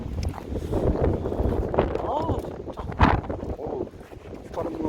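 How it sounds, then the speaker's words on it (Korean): Strong wind gusting over snowy Seonjaryeong mountain during a winter snow-blossom hike: a steady, close roar of buffeting air with surges, and human voices briefly heard. "요즘 들어서 이렇게 바람 많이 불 때는"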